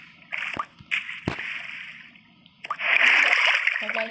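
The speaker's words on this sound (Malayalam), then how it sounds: "അപ്പോൾ ഗൈസ്, നമ്മൾ വെള്ളത്തിലോട്ട് ചാടിയിരിക്കുന്നു." A Minecraft player jumps into water, producing a bright splash burst with sloshing noise, preceded by a few sharp clicks and game sounds, all fairly close and loud.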